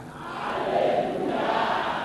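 A crowd at a church sermon shouts together in one sustained, loud, swelling roar that holds steady for about two seconds.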